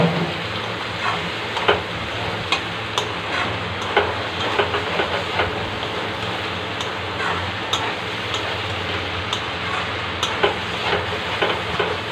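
Okra and potato are sautéed in a pan with a continuous sizzle, repeatedly punctuated by light clinks and scrapes of a spatula stirring at an uneven pace.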